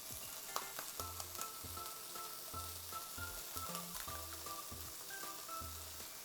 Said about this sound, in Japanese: 中火ぐらいでまずはベーコン、油引かずにもう炒めていきます